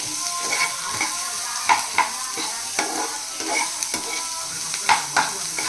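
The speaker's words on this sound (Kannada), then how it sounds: "ತರಕಾರಿ ಎಲ್ಲ ಹಾಕ್ಕೊಳ್ಳಿ ಹಾಕ್ಬಿಟ್ಟು ಕ್ಲೀನಾಗಿ ಒಂದು ಫ್ರೈ ಮಾಡ್ಕೊಳ್ಳಿ" Onions and mixed vegetables frying while being stirred, a steady sizzle punctuated by regular scraping and clinking strokes of a spoon against the pan, fairly close and loud.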